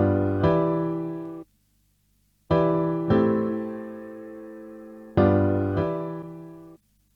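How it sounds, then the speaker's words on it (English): Piano chord sample run through a Resocord resonator effect, struck in repeated pairs of hits that ring out with a bright, resonant sustain and gaps of silence between phrases. "So now the piano sounds like this"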